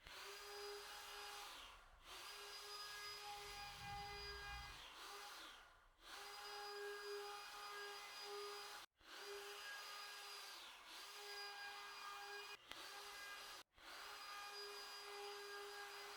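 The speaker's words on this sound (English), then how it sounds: "we'll take the router and round over all these edges" Wood router rounding over the edges of a kids' kitchen helper tower, a high steady whine in several long passes broken by brief pauses, with a faint low rumble during one pass.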